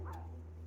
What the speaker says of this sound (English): Sorry about my neighbor's dogs.